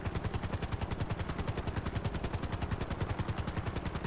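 Helicopter in a role-play video game, a steady rapid rotor chop with dense broadband whine, loud and continuous throughout.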